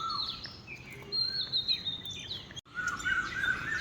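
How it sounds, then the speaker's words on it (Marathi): Several birds chirp and twitter along a road at about 5:30 in the morning, bright overlapping calls near and far over a soft background hush, with one brief drop to near silence. "पाहिलं का पक्ष्यांचा किलबिलाट."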